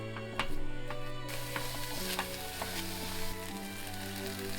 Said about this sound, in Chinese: 开中火，不停地翻炒面糊1分钟